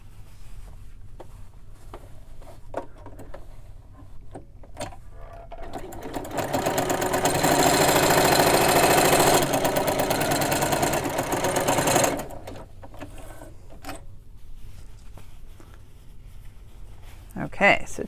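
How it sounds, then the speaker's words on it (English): A sewing machine runs a steady stitching burst through two layers of fabric on a roll-up organizer, loud and close for about five seconds, with quiet handling noises before and after. "I'm just sewing through these two layers"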